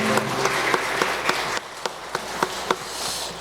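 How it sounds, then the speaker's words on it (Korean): Church congregation at a Sunday worship service claps in a steady, rhythmic beat of sharp, regularly spaced claps over a constant low hum, fairly close and moderately loud. "우리 하나님께 영광의 박수 올립니다."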